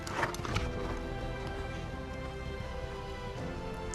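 A dressage horse canters through an extended canter during a competition test. Its hoofbeats make a steady rhythmic drumming under a loud, continuous arena noise bed.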